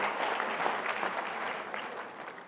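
Audience applause welcomes Dr. Rasmussen, a former Jeopardy! contestant, to the stage at a mini med school lecture: a steady, dense wash of clapping from a full room, even and sustained throughout with no voices over it.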